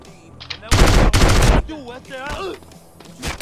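Two loud bursts of rapid gunfire in Arizona RP, with a voice talking around them.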